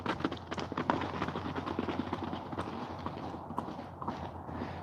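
Several horses run together, their hooves producing a continuous, irregular clip-clop at moderate distance over steady outdoor background noise, with no talk.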